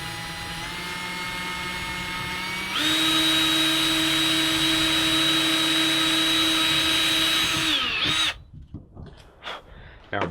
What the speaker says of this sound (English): we'll drill the holes in